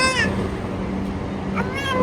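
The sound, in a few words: cat meowing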